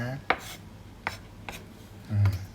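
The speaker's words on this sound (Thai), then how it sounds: "หั่นหอมใหญ่ก่อนเดี๋ยวเดี๋ยวปาดกระเทียมก่อน" A knife cuts onion and garlic on a cutting board, giving a few separate, sharp chops spaced apart, quiet and close, with a soft scraping thud at the end.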